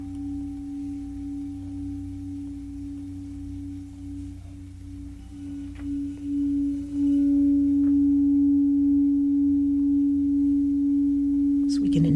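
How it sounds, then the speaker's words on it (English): Sustained meditation tones layered in different notes, a steady drone with a strong held pitch that swells louder about halfway through and continues evenly, with faint higher overtones. "So you can hear there's different tones, right? There's different notes going on there."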